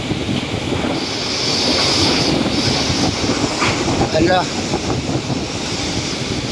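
Strong typhoon wind roars and buffets the microphone continuously during a Signal No. 5 storm, with a person speaking briefly over the gusting noise.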